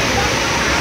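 Floodwater after heavy rain on the Presidente Dutra highway rushes in a dense, loud, unbroken roar, strong enough to carry a car along, with a faint babble of voices underneath.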